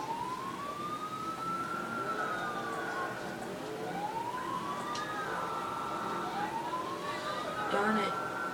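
Several sirens wail at once, their rising and falling tones overlapping in repeated sweeps over steady background rumble, fairly distant.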